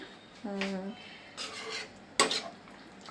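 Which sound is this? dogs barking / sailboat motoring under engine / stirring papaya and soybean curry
stirring papaya and soybean curry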